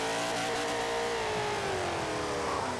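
Hot Wheels Twin Mill car in Forza Motorsport 7, its engine held at a loud sustained rev with a steady high whine rising slightly, heard up close and uninterrupted.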